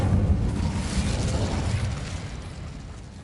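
A fiery blast from the Incendio spell in Hogwarts Legacy, a loud, roaring whoosh of flame that stays dense and full at first and then slowly fades.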